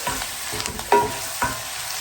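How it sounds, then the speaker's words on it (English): A whisk scrapes and stirs flour into melted butter in a hot pan, giving a soft continuous sizzle broken by two or three sharper scraping strokes, close and alone. "I'm going to add the flour and I'm going to whisk it in, cooking for about a minute"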